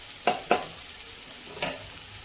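Spatula strokes stirring a dry spinach stir-fry with crushed peanuts in a pan, heard as two quick scraping clatters close together, then a softer third one after a pause.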